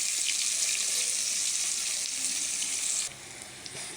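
Onions fry in hot oil after spices, giving a steady bright hiss and crackle close up that softens a bit after three seconds, with no talk.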